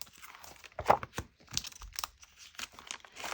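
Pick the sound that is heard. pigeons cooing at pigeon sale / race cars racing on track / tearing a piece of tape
tearing a piece of tape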